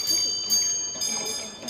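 Railway signal box bells at a signalling school demonstration, a few bright metallic rings struck at intervals, each ringing on briefly, with someone talking underneath.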